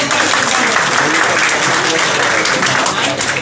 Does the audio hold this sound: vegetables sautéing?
no